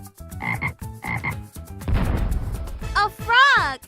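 A child's toy or character mimicking a frog, a voice imitating croaks in short repeated pulses, then a burst of rough noise and rising whoop-like calls, loud and close, partly mixed with speech-like sounds.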